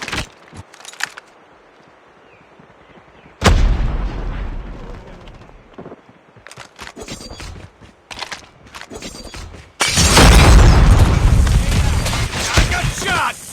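Gunfire and explosions in a Call of Duty Mobile match, sharp bursts early, then a loud, sustained barrage of blasts and shots near the end, with voices calling out in between.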